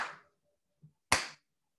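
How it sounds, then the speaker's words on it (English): Gullah-style hand clapping: a single crisp, close clap rings out clearly after a soft earlier tap, sharp and bright against near silence. "you have the one clap."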